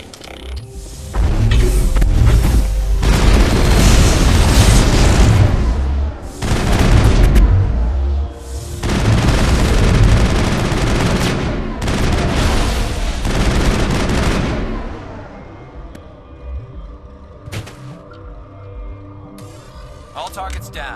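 Mass Effect combat: dense bursts of gunfire and booming explosions come in several loud waves and fade toward the end, with shouted voices among the battle noise.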